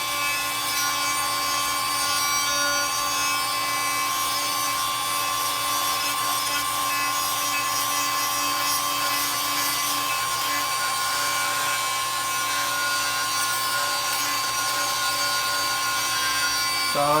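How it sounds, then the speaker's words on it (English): Die grinder chamfering the end of a steel sway bar part into a beveled edge during a Currie AntiRock sway bar install on a Jeep TJ/LJ, giving a steady, loud high-pitched grinding whine that runs continuously without pause. "So I'm going to chamfer this with the die grinder and make it a little easier on myself."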